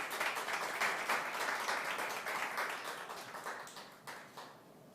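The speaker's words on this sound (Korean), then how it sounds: "박수로 환영해 주시면 감사하겠습니다." An audience at a political party's vision presentation claps steadily to welcome a candidate, a dense, moderately distant round of applause that gradually thins and tapers near the end.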